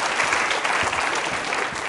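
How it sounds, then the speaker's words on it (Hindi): Steady, loud applause from a quiz show studio audience, continuous clapping filling the whole stretch without pause. "जोरदार तरीके से तालियां बजाइए"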